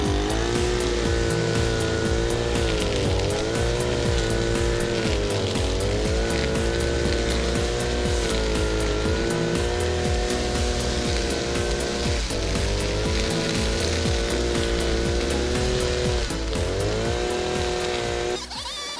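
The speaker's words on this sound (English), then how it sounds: "here I'm using the bushwhacker to cut down all the tall weeds and grass that have been growing for months" A motorized bushwhacker cuts down tall, overgrown weeds and grass in a driveway lawn garden, producing a loud, continuous engine whine close by that wavers slightly in pitch throughout, without speech.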